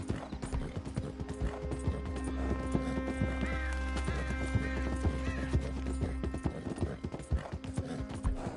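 Horse hooves clip-clop steadily through most of the stretch in Red Dead Redemption 2, under a constant low game soundscape with a few faint whinny-like tones and no speech.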